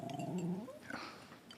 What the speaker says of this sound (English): and her ugly dog.